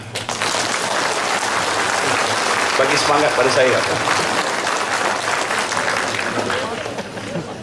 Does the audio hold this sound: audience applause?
yes